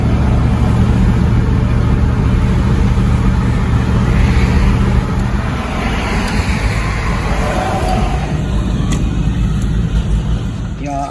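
Car driving through busy traffic, a loud continuous road and engine roar with low rumble, softening slightly midway and carrying on steadily with faint higher clicks near the end.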